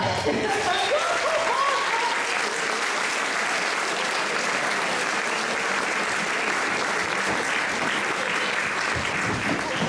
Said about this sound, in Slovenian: Vi pa jim zaploskajte.